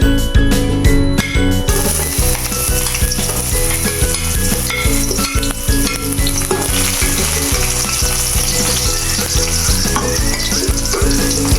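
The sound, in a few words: garlic sautéing in hot oil for squid adobo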